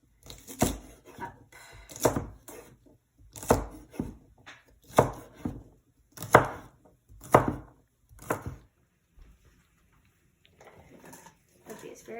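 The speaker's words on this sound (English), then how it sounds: "Then we're gonna just chop the rest of it" Asparagus being chopped on a board, a knife striking in about eight distinct, evenly spaced chops that grow closer together, followed by quieter faint handling.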